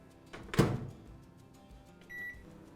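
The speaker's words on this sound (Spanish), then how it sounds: "la vamos a fundir entonces en microondas en lapsos de 15 o 20 segundos hasta que esté bien líquida" Cubed butter melts in a microwave oven: a thunk at the start, then a low steady hum, and near the end a short, clear electronic beep.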